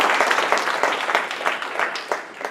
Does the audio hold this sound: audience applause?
yes